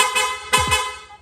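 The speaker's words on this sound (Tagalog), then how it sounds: "Meron pa rin po yung rapid horn." A rapid horn fitted to a Yamaha NMAX 155 scooter blares in a quick burst of loud, buzzy electric honks, each note close and sharp with slight pitch dips between them.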